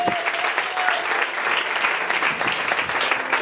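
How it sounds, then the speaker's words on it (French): A church congregation bursts into sustained applause during a French-language worship service, dense clapping filling the room steadily for several seconds without talk. "Applaudissez pour Jésus-Christ"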